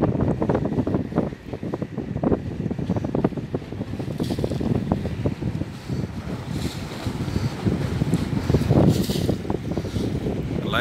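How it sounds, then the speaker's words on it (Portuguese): Strong wind buffets the microphone continuously on a river ferry crossing the São Francisco River in Minas Gerais, with rumbling gusts and a boat's hum mixed with water noise throughout, no talking. "Vocês veem que tá ventando muito."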